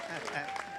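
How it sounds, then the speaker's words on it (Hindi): An audience at a Hindi comic poetry gathering claps in a brief, dense burst of applause, with a voice talking over it. "एक बार मेरी दाढ़ी के लिए तालियां बजाइए"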